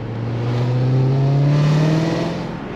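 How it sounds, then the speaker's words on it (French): A BMW E46 fitted with a turbo engine gets a quick throttle blip, its revs rising smoothly and then falling away in one short, loud, close burst. "C'est ça qui est cool, tu donnes un petit coup de gaz"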